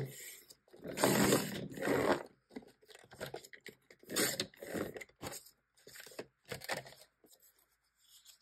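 Paper is cut and handled close up for a junk journal pocket, with intermittent crisp snips, rustles and scraping strokes broken by brief pauses.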